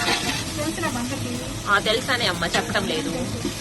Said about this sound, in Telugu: ఏం లేదు, 1 by 1 అన్ని వేసుకుంటూ కలుపుకుంటూ పోవటమే.